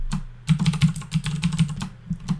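Typing on a computer keyboard to enter a spreadsheet formula: a quick, uneven run of close, crisp key clicks with brief pauses between bursts.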